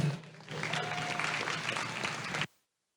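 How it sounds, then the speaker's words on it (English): Applause for class champions at a gilt show, a dense burst of crowd clapping that rises quickly, holds steady and loud for about two seconds, then cuts off abruptly into silence. "let's have a big round of applause for all of these class champions"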